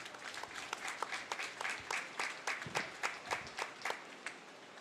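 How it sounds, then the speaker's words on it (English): A small audience at a county fair cattle show claps for a winning heifer, fairly light scattered handclaps with distinct individual claps rather than a dense roar, steady for several seconds. "Go ahead and give her a round of applause"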